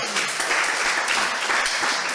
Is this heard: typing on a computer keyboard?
no